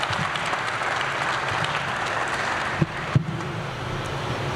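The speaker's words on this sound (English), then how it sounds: "Please join me in a round of applause in their honor." Steady applause from an audience at a US Air Force Academy commissioning ceremony for Cadet Squadron 2, class of 2021, sustained and even throughout with a couple of brief sharper knocks near the end.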